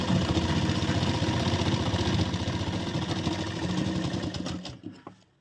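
A sewing machine runs steadily while stitching the seam of a princess-cut deep-neck blouse, a close, continuous rapid whirring that holds for about four and a half seconds before slowing and stopping.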